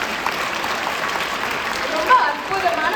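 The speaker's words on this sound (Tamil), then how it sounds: "நம்மளோட பாரதியாருக்கு ஒரு பலத்த கைத்தட்டல் தரீங்களா மக்களே?" Applause from an audience at a Tamil Sangam Pongal celebration in Minnesota fills a hall with dense, steady clapping that swells slightly toward the end. No one speaks over it.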